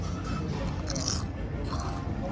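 A crunchy sweet potato snack, like Japanese Osatsu crackers, being bitten and chewed up close, with steady crisp crunching over a low background hum.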